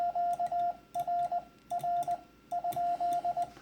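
Short steady Morse code CW beeps in quick groups of dots and dashes, repeating four times with brief pauses between bursts, clear and tonal.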